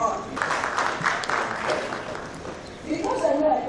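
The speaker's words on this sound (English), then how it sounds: "I don't think it's out of the way to clap" An audience at an eGovernment summit applauding, a burst of clapping that swells and then thins, with a voice speaking over part of it.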